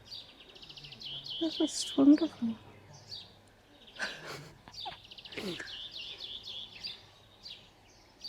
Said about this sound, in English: we can hear the birds sing